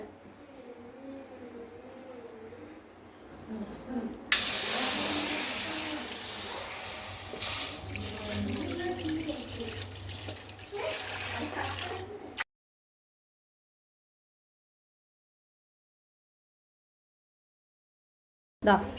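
Coconut milk heats in a hot wok to make coconut oil, breaking into a loud hiss and sizzle after a quiet start. The sound holds for several seconds, then cuts off abruptly to silence.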